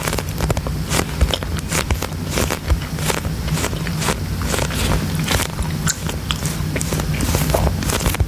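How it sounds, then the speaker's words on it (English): Gum is chewed close up in an ASMR mouth-sounds session, giving steady wet, crackly biting and clicking sounds that repeat rhythmically and loudly for several seconds. "My gum is disintegrating in my mouth."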